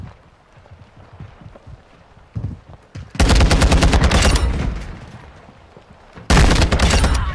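Pistol gunfire in a video game comes in two loud, rapid volleys, each a dense string of close shots, following a quieter stretch of faint game noise.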